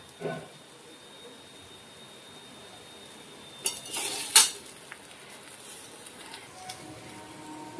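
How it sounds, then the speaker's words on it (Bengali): Bitter gourd and potato frying in a pan for a vegetarian meal, a low steady sizzle with brief clinks of a utensil stirring midway. "এটা হচ্ছে করলা আলু ভাজা।"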